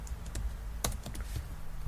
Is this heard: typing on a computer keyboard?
yes